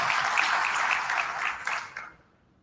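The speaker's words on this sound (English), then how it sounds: "Let's give them a round of applause first" A church audience giving a round of applause, loud dense clapping that fades out quickly after about two seconds.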